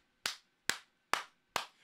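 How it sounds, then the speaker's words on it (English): Four sharp hand claps at an even, unhurried pace, each crisp and close with a short decay, alone in a quiet room. "I'll clap until my hands bleed."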